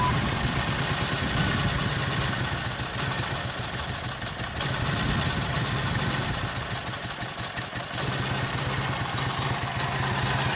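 A Brough Superior SS80, an English motorcycle, runs steadily at idle with a continuous, even engine drone and some mechanical clatter, loud and close throughout.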